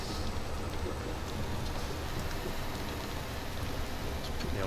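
Steady simulated rain in Euro Truck Simulator 2 on an Icelandic road, a dense continuous patter of drops on the truck with a low engine rumble underneath and no speech.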